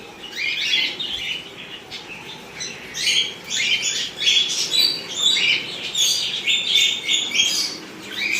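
Pet cockatiels and budgerigars chirp and tweet continuously and close by, with overlapping bursts of calls rising and falling throughout and no talking.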